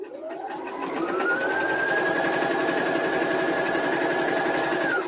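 A sewing machine top stitches a pocket, running in one steady, close whir of rapid needle strokes for about four seconds before stopping.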